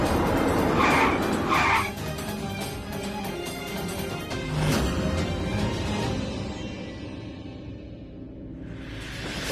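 A car brakes suddenly on a street, its tyres skidding in a loud screech, followed by engine rumble and traffic noise that fade toward the end.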